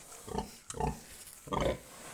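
Pigs and pregnant sows grunt in a pen on a small farm, three short bursts of low, rough grunting at close range with brief pauses between, and no talk.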